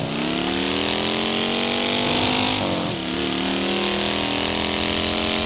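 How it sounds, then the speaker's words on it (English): A buzzy motorbike engine in Forza Horizon 5 drones steadily at high revs, dips briefly as if shifting gear, then climbs back to a constant whine. "It's that same old generic motorbike sound which is reused over and over again."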